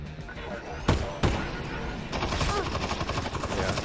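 Enemy gunfire in Half-Life: Alyx rattles in rapid bursts through cover, with two sharper impacts early on and a dense, steady stream of shots continuing afterward at moderate level.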